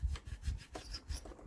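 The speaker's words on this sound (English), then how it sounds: "we are just going to wipe around the inside of the valves" A cloth rubbing around the inside of the valves of a stuck BSA 220cc engine, a few quick rhythmic wiping strokes, close and soft.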